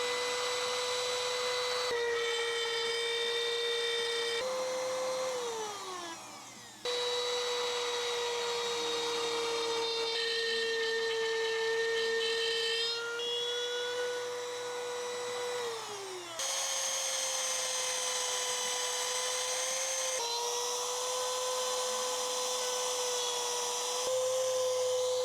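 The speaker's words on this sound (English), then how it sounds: "we'll go with the trim router and we'll see how that does" Trim router making test cuts, a steady high-pitched motor whine with brief pitch drops as the bit loads into the material, continuous and fairly close.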